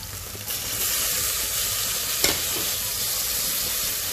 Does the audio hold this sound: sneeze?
no